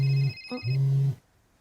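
A mobile phone rings close by, playing two sustained electronic tones separated by a short pause before stopping abruptly.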